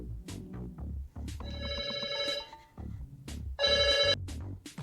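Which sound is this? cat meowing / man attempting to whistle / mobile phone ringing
mobile phone ringing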